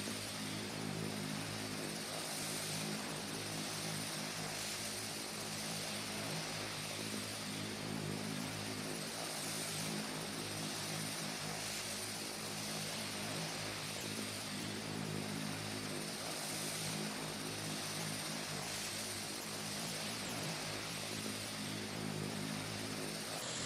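A propeller aircraft engine in flight drones steadily as a continuous, even hum with a faint pulsing texture, heard alone and fairly quiet throughout.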